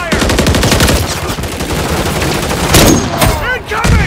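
Call of Duty Modern Warfare 3 combat with dense automatic gunfire, rapid fusillade bursts running throughout, loud and near, with shouted voices mixed in over the shooting.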